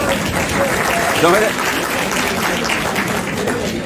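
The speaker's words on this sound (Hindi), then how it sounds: "अच्छा, ये ताली कल्चर बंद।" An audience at a seated talk session claps together in a dense, sustained burst of applause, with a voice speaking briefly over it.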